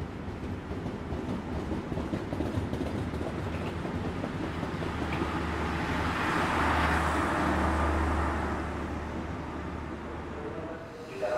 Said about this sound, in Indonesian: Yang berangkat ini adalah kereta api Belambangan Ekspres ya